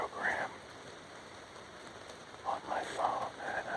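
Rain patters steadily on surfaces outdoors during a walk, a soft, even hiss with brief louder splashes, faint under occasional low talking.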